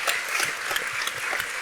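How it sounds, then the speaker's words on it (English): An audience at a film festival documentary panel claps for the film's producers, a steady wash of mid-distance applause without clear individual claps standing out. "if you please clap for all of the producers of this film"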